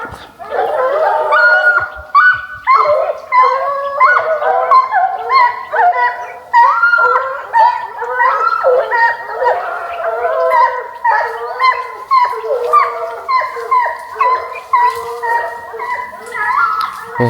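A pack of hunting hounds bays and howls continuously while chasing wild boar, many overlapping voices yelping at moderate distance, loud and sustained throughout.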